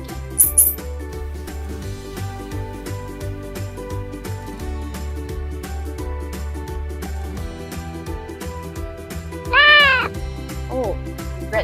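Cartoon cat meows from a kids' coding game tutorial play out over steady looping background music, a couple of short high mews sounding near the start and a clearer, louder meow near the end.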